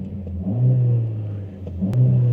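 A 2023 Mercedes-AMG A45 S facelift in Sport Plus mode, its engine revving in a steady, loud, close droning note that rises and falls twice, with no talking.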